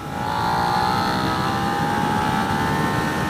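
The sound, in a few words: 2017 Suzuki SV650 motorcycle engine intake in third gear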